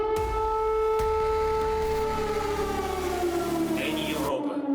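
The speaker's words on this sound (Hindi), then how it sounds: "तभी हवाई हमले से अलर्ट करने वाला सायरन गूंजने लगा" An air raid siren wails across Kyiv, a loud sustained rising-and-falling tone that holds steady for several seconds and then slides downward before cutting off.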